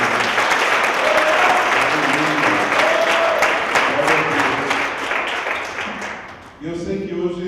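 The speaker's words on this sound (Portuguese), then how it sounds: "Dê um aplauso ao Senhor por isso." A church congregation at an anniversary service breaks into loud, sustained applause that fills the room, fading toward the end as a voice speaks over it.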